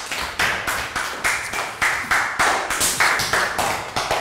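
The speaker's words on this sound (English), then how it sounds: "Round of applause for Dan" A small group of children in a Year 3 maths class claps for a classmate in a short series of separate, rhythmic bursts of close claps, each bunch fading before the next.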